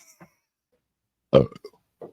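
After a drink, one loud, close burp stands out from the quiet, with a few faint murmurs on either side.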